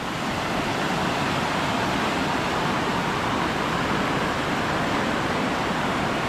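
A river in the Konkan hills running in flood after heavy monsoon rain, a loud, dense, unbroken roar of rushing water close at hand.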